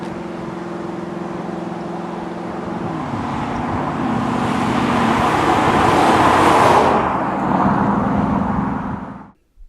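A modded Ford Mustang rental car accelerates hard from 0 to 60, its loud, close engine roar building steadily for about seven seconds, then easing off before cutting out abruptly at the end.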